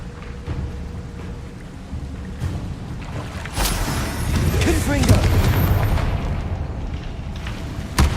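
A Confringo spell blast in Hogwarts Legacy lands as a sharp boom about midway, followed by a heavy rolling rumble and crackle, with scattered game sounds and faint voices around it.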